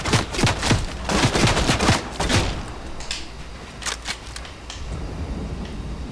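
Rapid gunfire in the video game Fortnite, bursts of sharp cracking shots clustered in the first half and then sparser scattered shots, fairly loud with no talk.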